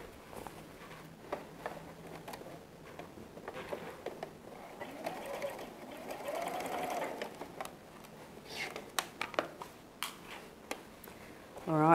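A sewing machine fitted with a quarter-inch foot, set to a 1.8 stitch length, stitches a quilt border, giving a close, steady whirring hum with rapid needle clicks for about ten seconds before a voice briefly begins at the end.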